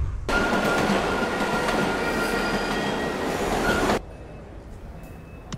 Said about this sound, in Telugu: దీన్ని ట్యూబ్ అంటారు. ఇది ఎక్కితే మన ఇంటి దగ్గర గంటలు దింపేస్తుంది.